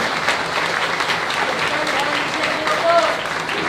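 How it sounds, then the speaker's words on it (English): A crowd at a campaign event in Sherman, Grayson County, Texas, applauds the volunteer hosts with sustained, full clapping that stays loud throughout, a few voices faintly mixed in. "Let's have a round of applause for everyone who's willing to lead the effort right now"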